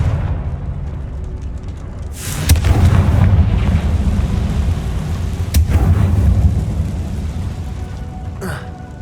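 Confringo blast spells exploding in Hogwarts Legacy, sharp cracking bursts around two, five and a half, and eight and a half seconds, each trailing into a deep rolling boom over a steady low game rumble.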